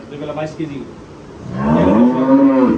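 A Holstein Friesian dairy cow on a farm moos loudly and close by in one long, drawn-out call, after a man's speech in the first second and a half.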